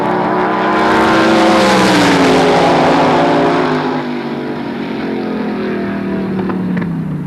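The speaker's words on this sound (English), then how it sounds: "Good start for both cars." Two drag racing cars launch down the track, among them an aluminum Hemi on gasoline in a 1923 T Roadster, a loud, near engine roar that falls in pitch and fades away into distant rumble.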